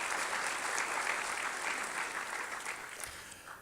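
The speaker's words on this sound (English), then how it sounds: "a round of applause." Dense, steady applause from an audience at a 2014 economic outlook event held in an Oracle facility, filling the whole stretch at an even level with no voices on top.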